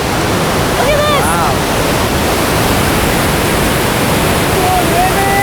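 Steady, loud rush of a river flowing into a lake in the Desolation Wilderness near Lake Tahoe, a dense unbroken wash of water noise with a few faint higher tones over it and a voice speaking over the flow.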